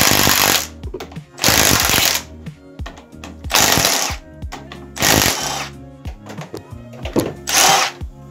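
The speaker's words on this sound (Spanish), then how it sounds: "Ahora nuestro siguiente paso es aflojar esos cuatro tornillos." Power tool loosening four bolts on the fork of an Italika AT110 motorcycle, loud close bursts of whirring drill or impact driver, about six runs separated by short pauses with clicks and rattles.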